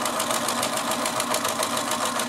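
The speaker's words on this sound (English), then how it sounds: "I'm just going to sew straight across." A sewing machine stitches straight across a fabric doll's hairline to fix the hair in place, its motor buzzing steadily and loudly up close with a fast, even needle rhythm throughout.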